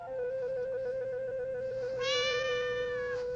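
A cat gives a drawn-out meow that swells louder partway through, heard close by over a steady faint hum.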